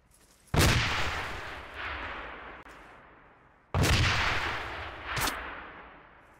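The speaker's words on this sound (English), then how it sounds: "I know, I've just got shot at as well." Gunfire in a military shooter game rings out as two loud, close bursts a few seconds apart. Each sharp blast trails off into a long rumbling echo, with a smaller crack following the second.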